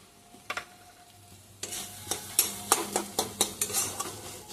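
A spatula stirs pointed gourd and egg with cumin and coriander powder in a pan: a few scattered scrapes, then a steady rhythmic run of scraping strokes over a faint sizzle, close by.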